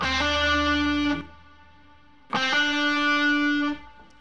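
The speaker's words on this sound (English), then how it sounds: "a hammer-on is simply performed by plucking the first note and then hitting the string really hard with another finger" Two distorted electric guitar notes, each plucked and quickly followed by a hammered second note that rings on before being cut off.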